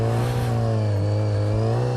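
Motorcycle engine held at about 3,000 rpm during a wheelie, a steady, loud, droning hum with a slight dip in pitch midway, heard up close with no talking.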